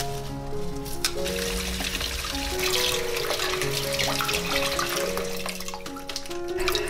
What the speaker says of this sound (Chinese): 接下来洗一把芹菜，这个叶子不要摘掉。